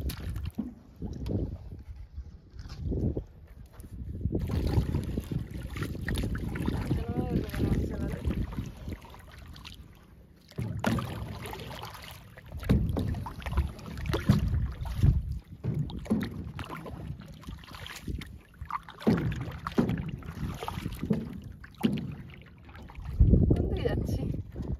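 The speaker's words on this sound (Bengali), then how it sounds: "এই তো এগোচ্ছে নৌকা।" A small rowboat is paddled through water while water lilies are gathered, with uneven splashing and gusts of wind noise. People talk throughout.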